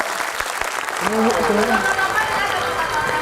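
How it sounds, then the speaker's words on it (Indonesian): A studio audience breaks into applause and cheering on a talk show set, the clapping swelling after a second and continuing under a voice and faint music. "tepuk tangan dong"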